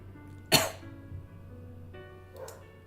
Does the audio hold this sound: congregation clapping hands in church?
no